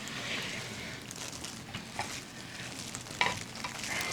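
Galbi-jjim, Korean braised short ribs, cooks in a pot over low heat with a soft, continuous sizzle and gentle bubbling, faint and even throughout.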